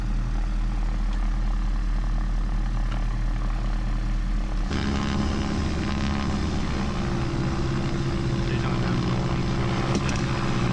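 Diamond DA-42 twin-engine trainer idling on the ground, a steady loud low drone with propeller hum that shifts in character partway through, continuous and close throughout.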